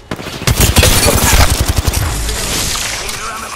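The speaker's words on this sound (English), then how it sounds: "I am taking fire, friends." Incoming gunfire strikes the player in a battle royale shooter, a loud rapid burst of automatic shots lasting about a second and a half before fading into a muffled rumble.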